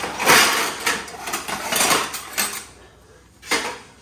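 A metal wok is scrubbed among dirty dishes, with close clattering and scraping of metal cookware in short uneven bursts, fairly loud, with quieter pauses between strokes.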